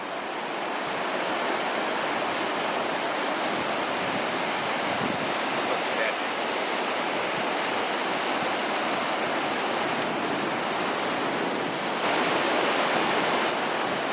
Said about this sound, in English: Waves are breaking way out there.